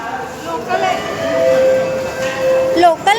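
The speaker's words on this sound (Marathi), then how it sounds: "मस्त आहे ना अंडरग्राउंड मेट्रो" An underground metro train in Chennai rumbles steadily with a rising and falling tonal whine, heard from on board while people talk nearby.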